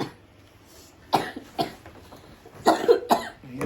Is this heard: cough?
yes